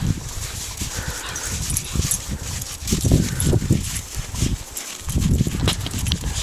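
A dog plays in snow at Crater Lake in July, giving steady close scuffling, thumping paw bursts and soft whimpering sounds over outdoor wind rumble for several seconds, with no talking.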